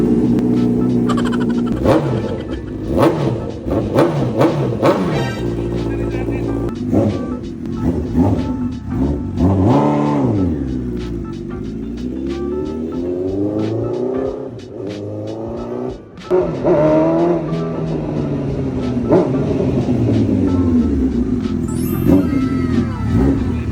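A Honda CB1000R motorcycle with 12,700 on the odometer and a brand-new battery idles loud and close, with repeated throttle blips that climb and fall and a deep rumble between revs.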